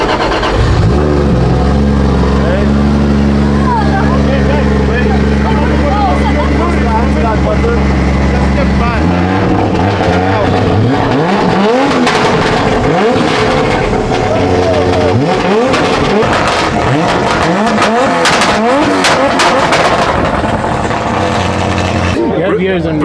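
A drift car's engine cranks and fires, idles with a deep rumble, then revs hard in repeated rising and falling bursts, loud and close, with people talking over it.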